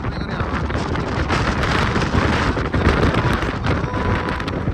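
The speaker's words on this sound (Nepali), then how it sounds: "यस्तो डन्जर हावा साह्रो पऱ्यो" Strong wind in Alaska buffets the microphone in heavy, continuous gusts, a loud low roar that swells and eases without letting up.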